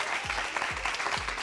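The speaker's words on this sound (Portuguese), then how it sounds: "Galera, palmas aí." Studio audience applause for a participant on a Brazilian TV show, a continuous bed of clapping with a few low thumps pulsing through it at regular intervals.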